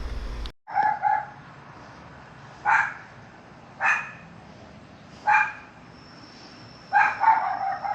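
A dog yaps in short bursts, five or six sharp, close clusters spaced a second or more apart against a quiet, steady background with no voices.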